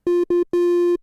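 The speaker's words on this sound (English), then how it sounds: "So we've got a selection of different waveforms to choose from here." Triangle-wave oscillator on a Korg Prologue analog synthesizer plays one sustained pitch in three notes, two short and one long, clean and loud with nothing else heard.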